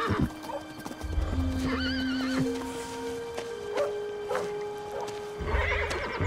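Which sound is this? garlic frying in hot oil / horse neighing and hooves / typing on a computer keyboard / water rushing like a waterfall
horse neighing and hooves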